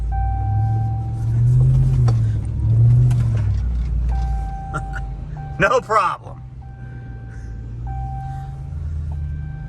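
A work truck labors up a muddy hill, its engine rumbling steadily with low drone and brief louder bursts, while someone speaks briefly over it.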